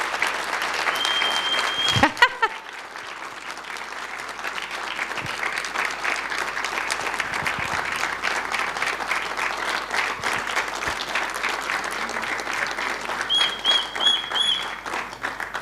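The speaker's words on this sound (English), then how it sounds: "Please give him a big applause." A retreat audience at a panel session applauds steadily for about fifteen seconds, moderate and roomy clapping with a brief thump near the start and a faint tone at the edges.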